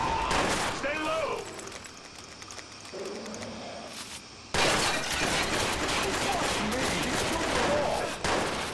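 Watch Dogs gunfire on Xbox One: scattered shots and shattering early on, then a loud, sustained burst of rapid fire from about halfway through, with voices speaking amid the shooting.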